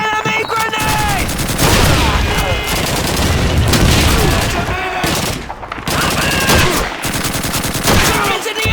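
Dense wartime gunfire from the video game Call of Duty 2 keeps up over several seconds, with rapid rifle and machine-gun bursts and booming blasts, loud and close. Shouted soldier voices are heard among the shots.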